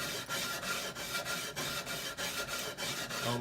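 Steady back-and-forth rasp of coarse sandpaper on a wooden cat boat half-hull model, rhythmic strokes about every third of a second, close and continuous with no talking.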